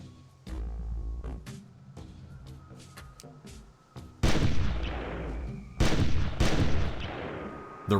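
Booming hunting-shotgun blasts aimed at a raptor in the Carnivores hunting game, two heavy, loud reports with long rumbling decays, preceded by quieter scattered clicks and ambient game sounds.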